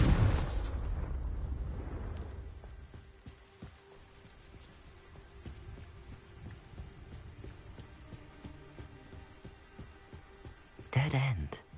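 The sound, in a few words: Confringo explosive spell from the video game Hogwarts Legacy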